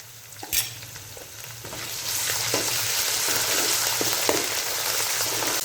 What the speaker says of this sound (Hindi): अब इसके अंदर जाएगा लहसुन अदरक का पेस्ट, 1 चम्मच भर के। इसको 1 मिनट के लिए हम फ्राई कर लेते हैं।